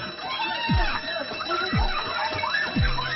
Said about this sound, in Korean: 요란하게 울려대는 화재 경보음.